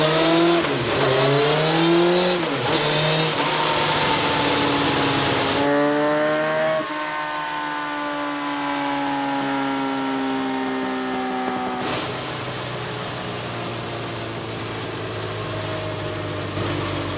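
A motorcycle engine on a dyno in fourth gear revs hard and loud, then idles down with falling pitch and settles into a lower steady run, a brief drop near the end, with no talk.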